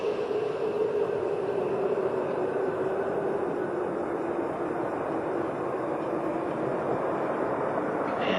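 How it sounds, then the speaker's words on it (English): Space Shuttle Endeavour rolling out on runway 15 at the Kennedy Space Center after main and nose gear touchdown: a steady, loud broadband roar of rushing air and rumble that holds evenly throughout, with no voices. "Space Shuttle Endeavour is rolling out on runway 15 at the Kennedy Space Center"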